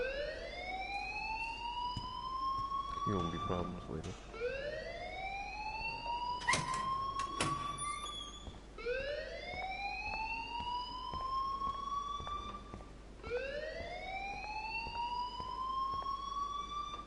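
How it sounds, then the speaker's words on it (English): A school alarm in the video game Life is Strange wails in loud, repeating rising sweeps, four cycles one after another, while a voice speaks briefly underneath. "please turn off that alarm since that's your job"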